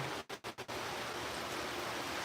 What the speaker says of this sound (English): as the rain comes in real hard